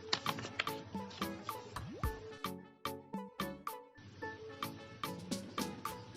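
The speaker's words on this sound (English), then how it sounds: "Then you take to your sewing machine to stitch with your allocated seaming allowance." A sewing machine stitches pajama pant fabric in quick mechanical bursts of needle clatter, with short pauses between runs; close and fairly quiet, with no talking.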